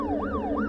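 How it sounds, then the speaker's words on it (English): A wailing emergency siren rising and falling in two smooth sweeps, steady and continuous, heard alone with no voices. "then sirens wailing in the distance"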